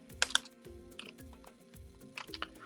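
Typing on a computer keyboard while writing a unit test for Spark code: a run of quick, uneven key clicks with a few sharper taps, heard close with no talk.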